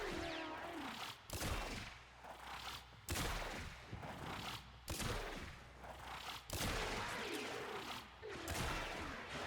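Repeated heavy shots from a weapon in the video game Warframe, loud blasts at roughly one-and-a-half-second intervals over continuous game effects and a muffled background.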